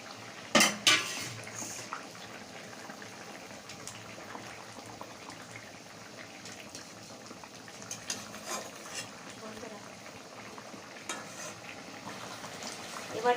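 Cooking sounds from a pan of small tangra fish in a light spice curry: clinks of utensils against the pan and faint stirring over a low simmer, with a couple of sharper clatters near the start.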